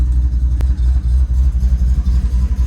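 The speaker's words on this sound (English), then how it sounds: "I'm going to take it for a little drive around the block" A Ford Mustang Bullitt engine rumbles deep and loud close by as the car pulls away, a short burst of low throbbing pulses with a sharp click partway through.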